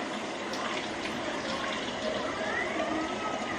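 Tap water runs steadily into an empty soup can, filling it about halfway for a smothered chicken and peppers dish; a continuous, even gush close by with no talking.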